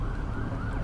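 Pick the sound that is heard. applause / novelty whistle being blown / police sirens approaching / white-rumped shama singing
police sirens approaching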